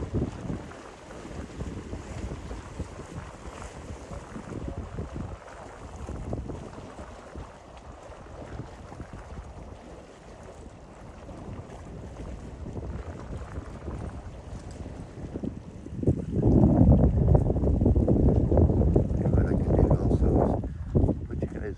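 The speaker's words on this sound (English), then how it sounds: "the wind is coming from the west" Strong wind from the west buffets the microphone on a bay during boat fishing, a steady roaring rumble that swells louder in the last few seconds.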